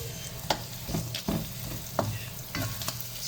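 Garlic and onion sautéing in a pan while being stirred for a chayote (sayote) dish, a steady sizzle broken by sharp utensil scrapes and clinks at irregular intervals, close and moderately loud with no talking.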